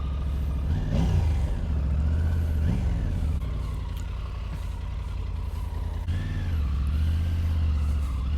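A Triumph Tiger 900 Rally adventure motorcycle engine idles with a low raspy exhaust rumble, blipped up in quick revs three times before settling back.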